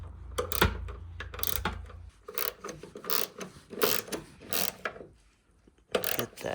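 Small aluminum hood strut bolts on a 1991-1999 Mitsubishi 3000GT being tightened with a ratchet, giving repeated close clicking bursts in short runs with brief pauses between them.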